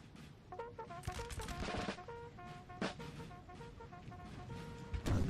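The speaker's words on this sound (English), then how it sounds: "Volley fire versus volley fire" Musket volley fire in Napoleon: Total War during a Battle of Talavera clash, a continuous crackle of massed distant shots with occasional louder reports, layered over sustained tonal music.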